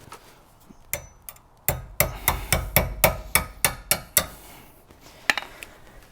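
Metal parts knocking and tapping while a triangle retainer piece is installed on an Andersen weight distribution hitch, a quick series of about a dozen sharp clinks in a steady rhythm, close and fairly quiet, with a few scattered knocks before and after.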